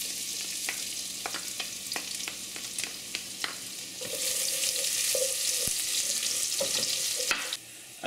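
Garlic frying in leftover tocino oil in a pan, a steady bright sizzle with scattered stirring scrapes and clicks; the sizzle swells louder about halfway through.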